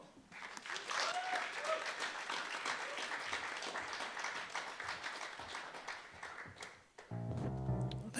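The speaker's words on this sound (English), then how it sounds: "So would you put a little extra energy and love into your applause" A club audience at a live comedy show claps and cheers warmly to welcome a performer to the stage, with a few audible whoops; the applause gives way to a brief burst of stage music at the end.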